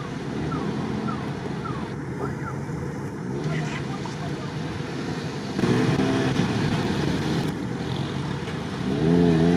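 An off-road vehicle's engine runs at an off-road festival, a steady motor rumble heard from outdoors through wind buffeting on the microphone, with brief louder surges.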